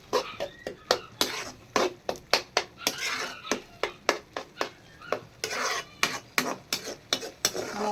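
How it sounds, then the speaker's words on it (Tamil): A spoon stirs onions and spices sautéing in oil in a pan for egg gravy, with rhythmic metallic scrapes and clinks over a soft sizzle, close and fairly loud. "எல்லாம் அப்படியே எண்ணெயிலே நல்லா வதங்கணும்."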